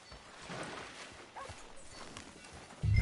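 Horse hooves clip-clop at a steady walking pace in the video game Red Dead Redemption 2, moderately loud over a soft ambient bed, with a heavier low thump at the very end.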